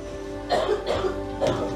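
A few quick, close coughs in succession, short harsh bursts separated by brief pauses over a faint background hum.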